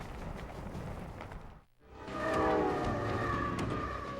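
The T-27 passenger train from Beijing to Lhasa runs across the Tibetan plateau, a steady broad rumble and rattle of rolling carriages that dips briefly before surging back louder, with no voices.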